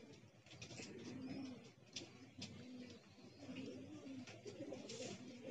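Pigeons coo softly and repeatedly nearby in the open air on a foggy morning, with low rolling calls recurring throughout amid faint background ambience.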